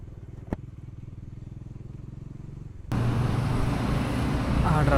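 Road traffic heard from a motorcycle on a long-distance touring ride in India, a steady low engine hum with one sharp knock early, then a louder, denser roar of wind and traffic taking over midway.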